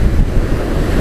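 Strong wind buffets the microphone at a seaside shrine in Fukuoka, a loud, constant low roar with sea surf rumbling underneath.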